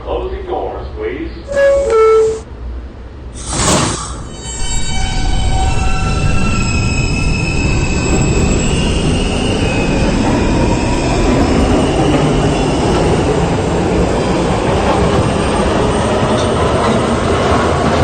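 An R160B D subway train gets under way, its motor whine rising in stepped tones after a door chime, then settling into a loud, steady rumble of wheels on track with faint squeals; a recorded announcement plays early on.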